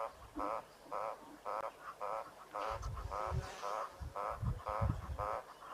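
An olive toad calls in a regular series of short, nasal, quacking croaks, evenly spaced about every half second, fairly close and clear, with low rumbling knocks and faint background noise joining partway through.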